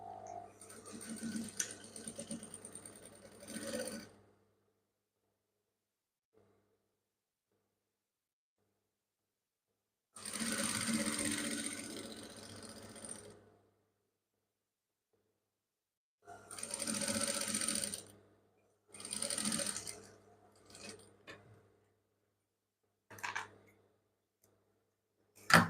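A sewing machine stitches a trouser seam up to the crotch in several separate close bursts of rapid whirring, with long silent gaps between runs and a few short stops and starts.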